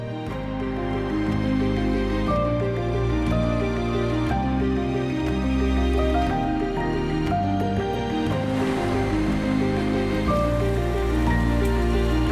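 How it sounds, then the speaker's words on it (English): Steady, dense rain pounds a racing yacht on the open Pacific during an ocean race, a continuous loud wash of drops on deck and water with no talk. "the last few days it hasn't stopped raining. It's just been solid for days"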